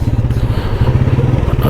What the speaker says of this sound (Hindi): ये बाइक्स वाले लोग कुछ यहाँ से गुजर रहे हैं